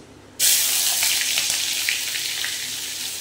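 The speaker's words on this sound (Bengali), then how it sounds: "এখানে আমি আমুল বাটার দিচ্ছি।" Amul butter hits a hot oiled pan and sizzles at once, a loud, steady hiss that slowly eases over a few seconds, with no talking.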